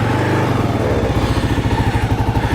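Kawasaki KLR 650 motorcycle engine running loud and close, a steady low rhythmic thumping idle throughout with some mechanical clatter, no voices.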